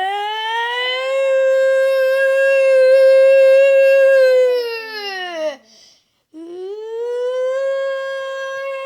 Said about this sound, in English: Is that the tornado siren?